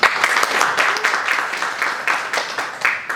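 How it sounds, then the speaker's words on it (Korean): Applause breaks out at a company training session, a close, bright burst of many hands clapping in quick, uneven waves that holds steady for a few seconds. "다시 한번 박수 부탁드리겠습니다"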